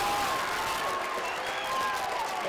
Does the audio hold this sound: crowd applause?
yes